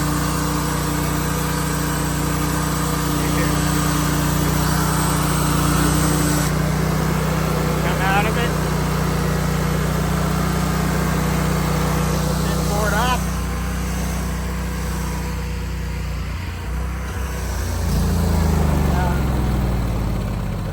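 Hud-son Oscar 336 sawmill engine droning loudly and steadily up close, then sputtering and winding down near the end as it runs out of gas, with talk mixed in.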